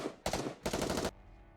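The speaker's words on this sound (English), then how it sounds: "Amidst the chaos of the maelstrom of gunfire" Gunfire from the Nikke: Goddess of Victory video game breaks out in two rapid, dense bursts of automatic fire separated by a brief gap, loud and close, then gives way to a fading tail.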